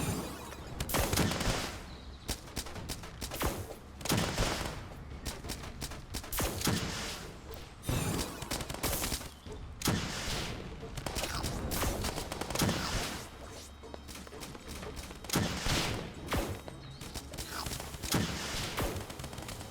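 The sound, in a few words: rocket launcher and gunfire in Starbound video game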